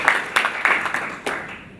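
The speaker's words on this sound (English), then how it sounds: "Can you give another round of applause?" Conference audience giving a round of applause, a few loose bursts of clapping from a small crowd, fairly close and fading out toward the end.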